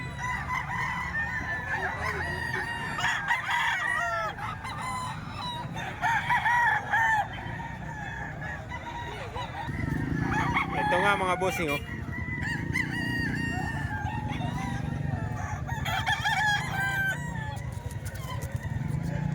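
Roosters crow repeatedly amid clucking in a crowded chicken market in Calumpit, with several birds calling at once, some near and some farther off, under steady talk from a man nearby.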